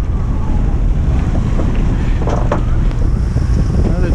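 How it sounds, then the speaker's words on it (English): Strong wind roars steadily across the microphone on a sailboat at sea at the entrance to Westman Harbor, about 23 knots, with broadband gusty buffeting and faint water and boat noise underneath, no talking. "Windy day."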